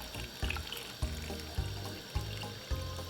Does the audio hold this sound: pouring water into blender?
yes